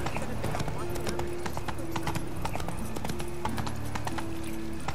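Rhythmic clip-clop of the horse Roach galloping in The Witcher 3, fast repeated hoofbeats with a steady game music tone underneath, loud and close throughout.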